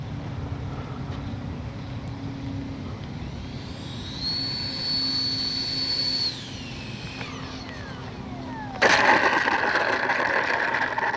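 A Freewing 64mm F-22 V2 RC jet taxis on a runway with a steady turbine-like whine. The pitch rises briefly, falls back, then surges louder near the end as it throttles up, heard fairly close and with no talking.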